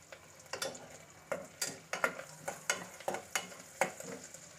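Ginger frying in oil in a pan for bottle gourd and moong dal curry, stirred with a utensil: a steady light sizzle broken by about ten crisp scraping strokes, close and alone.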